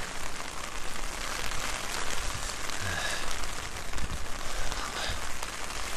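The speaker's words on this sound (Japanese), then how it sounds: "雨きついね。" Heavy rain pours steadily around a person walking through Tokyo streets from Takao toward Shinjuku, a dense, even hiss with scattered drop patter close by and no voices.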